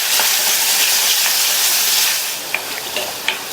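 Indian gooseberries sautéing in oil in a pan, giving a loud, close, continuous frying hiss that eases slightly midway, with a few faint clicks near the end.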